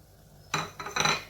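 Fried dry fruits being stirred into coconut rice with a spoon against a pot, producing a few quick scraping, clattering strokes after a brief quiet lead-in, close and with no speech.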